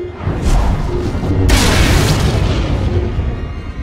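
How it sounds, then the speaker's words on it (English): Sustained rumbling explosions on the foundry level of a starship in Star Wars: The Old Republic, loud and continuous with a sharp burst partway through and a long roaring tail. "Critical explosions detected on the foundry level."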